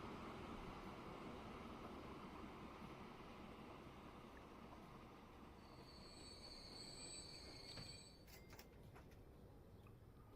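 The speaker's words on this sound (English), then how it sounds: "And one of our freight trains." A freight train in Transport Fever 2 rolls along steadily with rumbling wheels and high metallic squeals, faint and continuous, with no talk over it.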